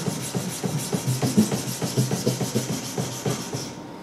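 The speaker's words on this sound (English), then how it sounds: "I'm going to start sanding at 45 degrees the other way" A knife blade being hand sanded with 600 grit sandpaper at a 45 degree angle, producing a close, steady series of quick rasping back-and-forth strokes in an even rhythm.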